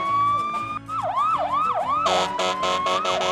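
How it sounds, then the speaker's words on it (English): A fire truck siren wails loudly and up close, sweeping through rising and falling yelps before switching to a rapid pulsing tone, with no talking over it. "They all climb aboard the fire truck and turn on the siren and lights."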